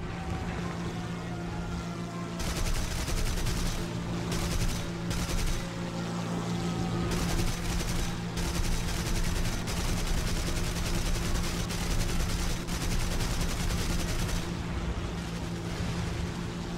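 Gunfire from a Bf 110 C-4 fighter in War Thunder: loud, dense automatic bursts over a steady engine drone, firing in long strings broken by short pauses.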